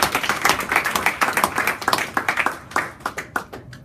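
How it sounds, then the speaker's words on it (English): Clapping for Toastmasters club officials and an area director at a meeting in Doha, a small group's close, crisp applause with distinct hand claps that thin out and scatter toward the end. "Give them a big round of applause."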